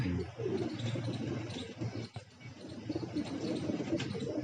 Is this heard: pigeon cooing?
yes